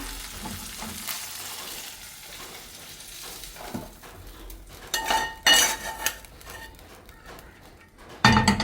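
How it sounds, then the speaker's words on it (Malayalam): Okra sautéing in a kadai, a soft steady sizzle with spatula stirs and metal scrapes against the pan, growing louder with bursts of clatter toward the end, no talking. "വെണ്ടയ്ക്ക നമുക്കൊന്ന് വാട്ടിയെടുത്താൽ മതി"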